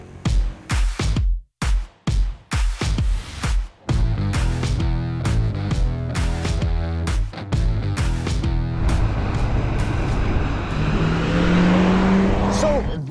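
A 2020 Mercedes-Benz CLA Shooting Brake 200 in AMG Line trim sets off: a run of sharp clicks and knocks gives way to a steady engine drone that builds and rises in pitch as the car accelerates.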